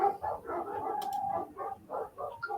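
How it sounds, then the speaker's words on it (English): A neighbour's dogs bark and howl some distance away, a faint, continuous mix of yelps and drawn-out howls. "Can you hear the dogs over there?"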